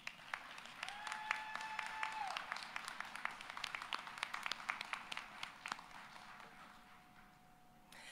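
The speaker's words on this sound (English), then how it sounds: "Graduates, please take this time to thank your family and friends with a" Graduation ceremony crowd at a fall commencement gives a sustained round of applause, many hands clapping in a large hall with a soft tone sounding briefly early on, tapering off toward the end.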